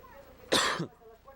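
A young man who works in a mine gives one short, harsh cough with a throat-clearing rasp, close and fairly loud against a quiet background.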